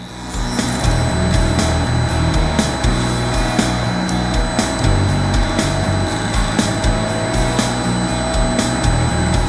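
A machine axis jogging across a workpiece toward its next corner, with a loud, steady low motor drone and regular sharp clicks or ticks repeating throughout.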